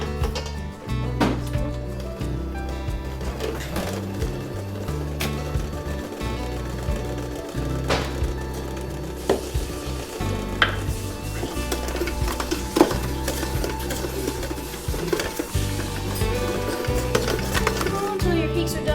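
A mixer whirs steadily as it whips cream, with a constant motor hum and a faint rhythmic churning that runs without interruption.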